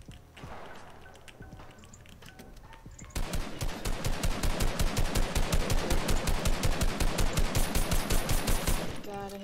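Rapid automatic gunfire from an enemy in a video game, a long, steady burst of evenly spaced loud shots running several seconds after a quieter stretch, with faint talk beforehand.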